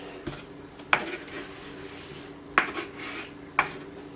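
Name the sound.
knife chopping on cutting board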